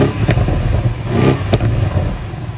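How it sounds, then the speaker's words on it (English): A 2019 BMW M550i with sport exhaust rumbles in a steady low drone from inside the car, with a couple of brief sharp pops cutting through the engine sound. "very noticeable exhaust difference."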